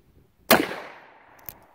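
A Pietta 1873 Colt clone single-action revolver fires a single .45 ACP round outdoors at a target, one sharp, loud close report with a trailing decay, followed a second later by a faint distant impact or echo.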